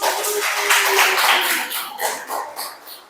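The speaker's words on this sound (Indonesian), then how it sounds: "kasih tepuk tangan." An audience in a classroom claps after a group presentation, producing a few seconds of dense, lively applause that thins out and ends in scattered claps.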